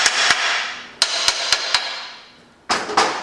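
Sharp metallic taps on a Super Cub transmission part being seated over dowel pins: a few spaced knocks, a quick run of four evenly timed strikes, then two louder hits after a pause, close and clear.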